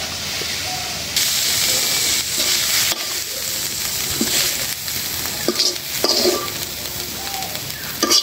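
Shrimp and radish greens fry in a pan, a steady close sizzle and hiss with occasional stirring scrapes and clinks throughout, no voices.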